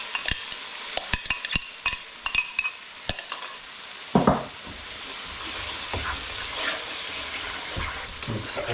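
Tomato onion paste and spices hit a hot pan for a soft cheese and mushroom curry in tomato gravy: a quick run of sharp clinks and taps, then a sudden loud splash into a steady close sizzle, no talking.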